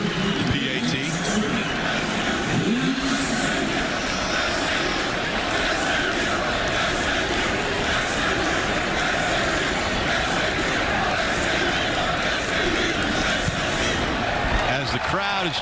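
A stadium crowd roars steadily at a Baylor Bears versus SMU Mustangs college football game after a touchdown, a loud, continuous wash of cheering beneath a play-by-play commentator talking.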